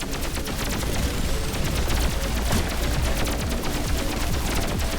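Dense, continuous gunfire from shooting in the video game Pathogenic: rapid, overlapping shots fill all five seconds at a steady, loud level with no talk over them.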